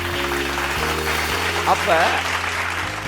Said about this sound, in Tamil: கைத்தட்டுங்க உதவருக்கு